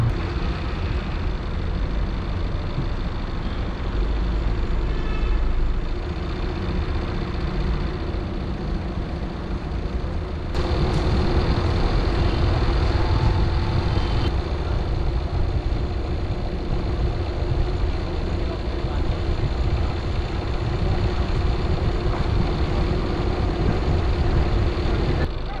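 A Tata Nexon's engine idles steadily with a low, continuous hum, close and constant throughout, with a slight shift in tone partway through.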